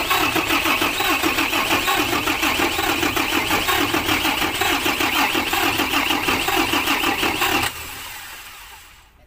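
A diesel generator engine, just bled of air in its fuel line to the injectors, runs loud and steady with a close, rapid chugging pulse for several seconds before it cuts out and fades.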